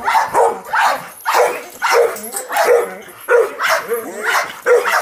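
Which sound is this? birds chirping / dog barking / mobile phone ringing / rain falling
dog barking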